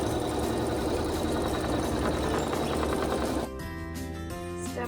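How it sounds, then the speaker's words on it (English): Navigator embroidery sewing machine stitching quilting, a steady mechanical hum with rapid repetitive stitching pulses that shift to a lighter, more rhythmic ticking partway through. "I can go ahead and hit the start button and it'll begin sewing some"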